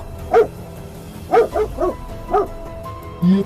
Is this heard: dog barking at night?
yes